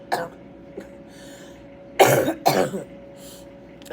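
A person recovering from a cough coughs twice in quick succession, loud and close, after a near-silent pause broken by small throat sounds.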